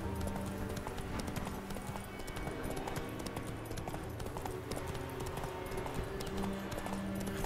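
Horse hooves clip-clop in a steady galloping rhythm as a rider crosses the world of The Witcher 3: Wild Hunt, close and continuous, with game music faintly underneath and no talk.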